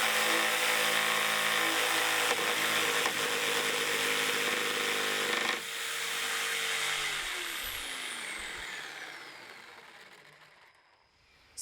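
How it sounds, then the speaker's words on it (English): A jigsaw makes a plunge cut into the centre of a board, a loud, steady motor buzz that shifts pitch as the blade enters, then winds down and fades to near silence at the end. "we can do a plunge cut"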